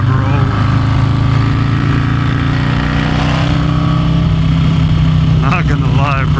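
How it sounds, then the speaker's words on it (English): A Harley Road Glide V-twin idles in a garage, its deep, steady rumble continuous and loud throughout, with a few brief higher sounds near the end. "you can't get enough of the V-twin rumble"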